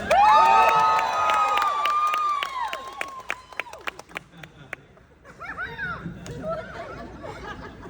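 A large crowd at a Stargate legacy celebration whoops and cheers loudly, then breaks into scattered clapping that fades into murmured chatter and laughter.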